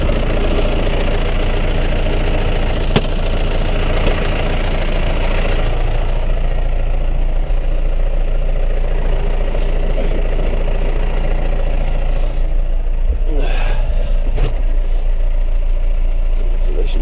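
A tractor hitched to a muck spreader idles with a low, steady diesel rumble throughout, with occasional clanks and someone talking over the engine.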